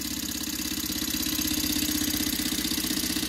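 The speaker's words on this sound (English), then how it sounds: "I had one little test run before this video, but besides that, this is the second time that I've run it." Close, steady running of an Okmo Microcosm R01 Rider-Ericsson model Stirling engine: a quick, regular clattering beat over a soft whir, continuous with no voices.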